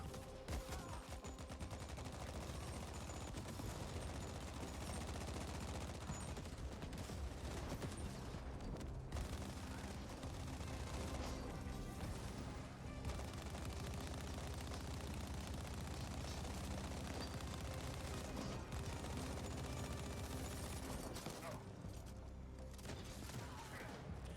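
Sustained, dense rapid-fire minigun bursts in The Ascent game, a loud continuous roar of gunfire running almost unbroken throughout with brief dips.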